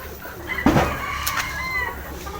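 A rooster of a Taiwan bird breed being held in the hands gives a single short, strained crow-like squawk, then brief clucking, close to the microphone over quiet background.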